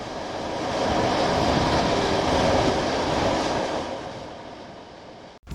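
An EN57 electric multiple unit train in the MaSzyna simulator rolls along with steady rail clatter, a continuous loud rumble that swells and fades slightly before a sudden cutoff near the end.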